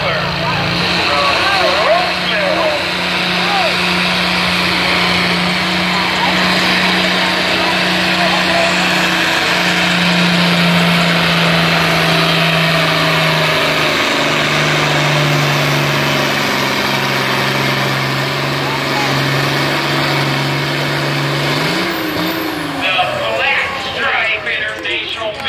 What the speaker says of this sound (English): this tractor for Rick Austin says it's the International 1566